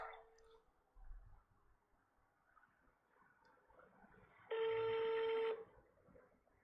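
A phone rings once with an incoming call, a single short electronic ring burst standing out against a quiet room with faint background noise.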